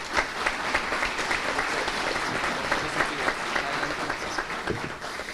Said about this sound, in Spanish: Pido para él un aplauso muy especial.